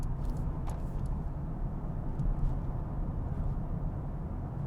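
Steady broadband road and wind noise from a 2022 Mercedes-Benz EQB 350 electric SUV accelerating onto a highway, a continuous low rumble heard from inside the cabin with no talking.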